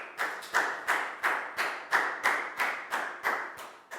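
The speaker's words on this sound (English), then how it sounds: "Big round of applause for Pat," A classroom of Year 4 pupils claps in a rhythmic unison burst for a student after an English lesson flashcard turn, steady claps repeating about every third of a second, loud and close.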